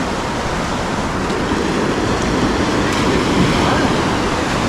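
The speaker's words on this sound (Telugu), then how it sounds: "ఇక్కడ వేవ్స్ చాలా తక్కువ ఉన్నాయి" Gentle ocean waves on a beach where a river meets the sea on the Karnataka coast, heard as a steady, broad rushing wash that stays even and close throughout, with no distinct breaking crashes.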